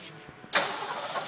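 A car running an MS3 Pro ECU with TFI ignition and full sequential fuel cranks briefly, then catches and fires up to a loud, steady idle close by.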